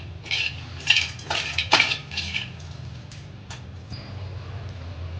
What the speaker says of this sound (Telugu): కడాయి వేడైన తర్వాత ఒక 3 టేబుల్ స్పూన్లు ఎండు కొబ్బరి వేసి బాగా వేయించుకోవాలి.